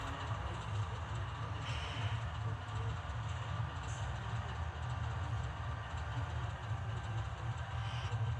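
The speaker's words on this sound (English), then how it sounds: "Another train coming at us with some Union Pacific power on the head end." An HO scale model train with Union Pacific locomotives rumbles past steadily with a continuous low drone and light rolling clatter, moderately loud and unbroken throughout.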